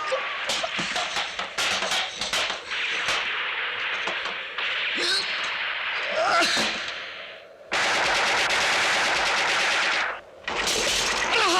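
Film gunfire as a group of men shoot at one man: bursts of sharp rapid shots and cracks, then long dense fusillades of loud continuous firing, with brief shouting between them.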